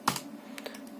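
A few quick keystrokes on a computer keyboard as a date is entered, one crisp click followed by several lighter taps, close and quiet.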